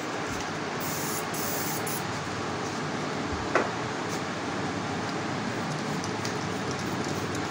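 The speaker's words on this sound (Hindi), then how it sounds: "और आप शाइनर स्प्रे का यूज़ करें ऐसे टाइम पर।" Hair shine spray hisses from an aerosol can in a continuous loud, close spray that lasts several seconds, with one brief click partway through and no talking.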